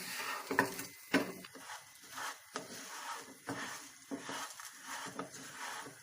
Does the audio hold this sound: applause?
no